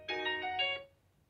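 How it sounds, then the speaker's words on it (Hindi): A Realme C30s system ringtone plays a short tonal chime of a few quick notes, alone and fairly clear, then fades out. "ये सारा ये आपका सिस्टम रिंगटोन देखने को मिलता है।"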